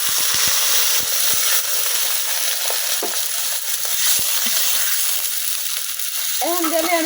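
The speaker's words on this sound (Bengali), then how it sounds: "পেঁয়াজটা কিন্তু ভাজা হয়ে গেছে। এখন দিয়ে মানে অল্প একটু পানি।" Sizzling fried onions in a kadai as a little water goes in, a loud steady hiss with a few early stirring taps, then a voice joins faintly at the end.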